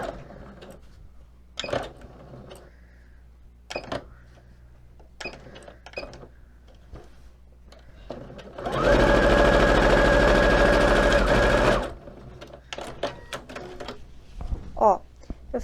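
Sewing machine running a parallel seam on a small doll polo shirt, one loud steady burst of about three seconds mid-clip, with soft handling clicks and fabric rustles before and after.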